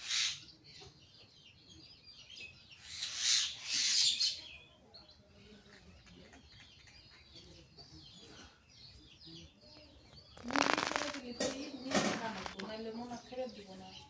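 Birds chirp and twitter in the morning near a household with chickens, in scattered bursts at mid distance, with people talking quietly at times.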